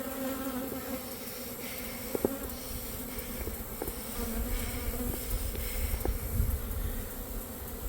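Honeybees buzzing around a defensive, aggressive hive: a dense, steady insect drone with individual bees whizzing close by now and then, continuous throughout with no talking.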